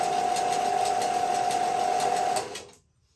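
A Chicago Electric belt disc sander motor running steadily with a loud, even electric whine and rattling hum, then cutting off and spinning down to silence near the end.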